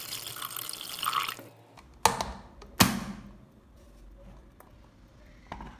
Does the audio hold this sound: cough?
no